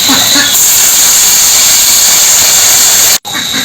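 Water poured into a hot pan of curry with elephant foot yam and pangas fish sets off a loud, continuous steamy hiss that holds steady, breaks off sharply for an instant, then resumes.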